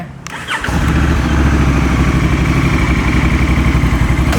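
A Honda Africa Twin 1100 motorcycle starts with a brief starter whir, then catches into a loud, close, steady idle with an even throbbing pulse that continues to the end.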